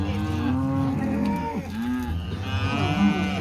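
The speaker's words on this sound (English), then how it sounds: "just sorted some calves out from some cows, bringing them down in, squeezing them in this little alleyway" Calves and cows on a ranch moo repeatedly and loudly while being sorted and squeezed into a small alleyway, with overlapping drawn-out calls from several animals and no talking.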